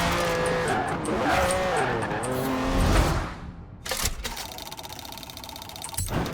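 A Lamborghini Countach with its rear wing fitted drives in the video game Forza Horizon 4. A steady engine roar with tire noise runs for about three seconds, then it cuts to a quieter, tonal in-game passage.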